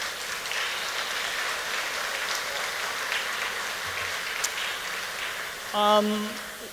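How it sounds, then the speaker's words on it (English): Audience applause for Catholic Charities ambassadors at an evening museum program, a steady broadband patter of many hands filling the room, ending with a brief tonal sound near the close. "A round of applause for our Catholic Charities ambassadors, please"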